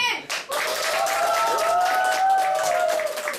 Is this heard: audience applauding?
yes